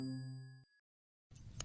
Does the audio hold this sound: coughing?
no